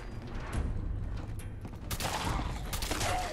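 A shotgun fired at slow-moving ghouls in Fallout 4, unmodded, at a National Guard training yard: dense, loud blasts layered over continuous game noise, with sharper bursts clustered near the end.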